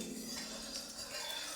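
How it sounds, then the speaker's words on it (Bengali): Metal spatula stirring mustard oil around a wok, giving light, faint scraping and clinking taps on the metal pan, soft and irregular against a quiet kitchen background. "এবার তেলটাকে একটুখানি আমি খুন্তি দিয়ে একটুখানি নেড়ে দেবো।"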